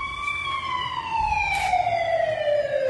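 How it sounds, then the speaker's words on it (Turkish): Sirens wail during a school earthquake drill in Turkey, a steady rising-and-falling electronic tone held loud and continuous throughout with faint background noise. "tatbikatta belirlenen saatte sirenler çalındı"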